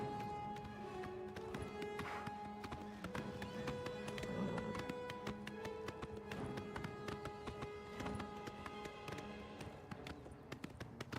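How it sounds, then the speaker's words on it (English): Rapid, rhythmic horse hoofbeats clatter steadily in The Elder Scrolls IV: Oblivion Remastered over continuous game music, with an occasional faint voice. "Come on, get on the horse."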